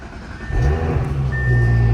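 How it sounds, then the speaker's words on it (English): An Audi S4 engine fires up close by and settles into a deep, steady idle through the exhaust, its rumble rising slightly as it catches, with a thin electronic chime tone running over it. "Enjoy the exhaust note"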